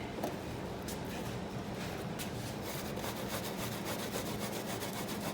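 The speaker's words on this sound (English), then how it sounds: "I've already peeled it, and now I'm going to start grating it." Peeled ginger being grated, heard as a continuous soft rasping scrape with a quick repeated rhythm, close and fairly quiet, with no talking.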